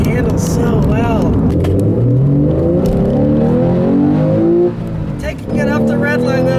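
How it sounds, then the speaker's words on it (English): A 2013 Porsche 911 Carrera with a manual gearbox revs hard at full throttle, its engine note climbing steadily in pitch, loud and close, then dropping briefly before rising again. "You go full throttle all the way through the RPM band."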